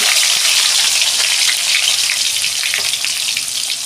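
Pointed gourds (potol) dropped into hot oil in a kadai for a vegetarian dorma, giving a loud, dense, continuous crackling sizzle close up that holds steady throughout.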